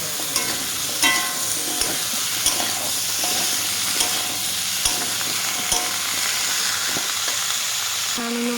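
Pumpkin frying in a hot pan, a steady sizzle with scattered scrapes and knocks of stirring throughout, fairly close and continuous.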